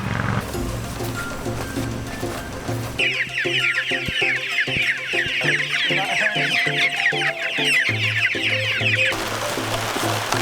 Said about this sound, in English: we're gonna go out and make sure those chicks are getting under shelter